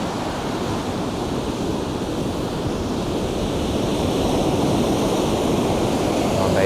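Ocean surf washes onto the shore in a continuous broadband roar, with wind buffeting the microphone and the wash swelling slightly louder toward the end.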